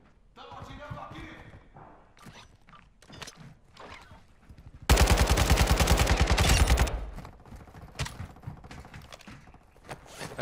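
A sustained burst of automatic gunfire rattles loudly for about two seconds in Warzone DMZ, with scattered shots and footsteps before and after. Players talk excitedly over it.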